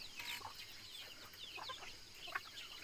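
Chickens cluck softly nearby in a quiet outdoor spot, with short, scattered calls that come and go over a faint steady background.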